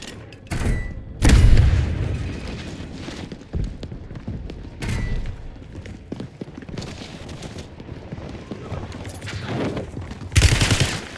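Rapid automatic gunfire and heavy booming shots in a video game firefight, bursts rattling near and loud with thuds between them, game voice lines faintly underneath.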